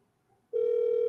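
Outgoing telephone call to a former Falcons player: after a moment of quiet, a single steady electronic ringback tone starts and holds, loud and clear.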